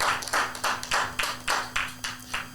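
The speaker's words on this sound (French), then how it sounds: "Aidez-moi avec des applaudissements nourris." Audience at a Bible-themed French game show clapping in about seven separate short bursts, each a few loud claps that fade, with a steady hum underneath and no talk.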